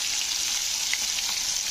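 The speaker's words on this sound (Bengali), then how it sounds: "মাছগুলো কিন্তু একেবারে লাল করে ভাজবো না, হালকা ব্রাউন করে ভেজে নিতে হবে" Pieces of rui fish frying in hot oil until light brown, giving a steady, even sizzle that holds at a constant level from start to finish with no voices.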